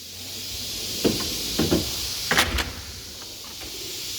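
A tool box wrench drawer is pulled open, giving several short sliding and clattering bursts of metal over a steady low background hum.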